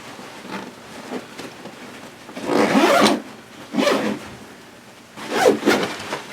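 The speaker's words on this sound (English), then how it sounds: "I'm going to zip this up" A zipper closes on a tactical backpack in several rasping pulls, three of them stronger and longer, with softer scratchy zipping between, close and clear with no talk.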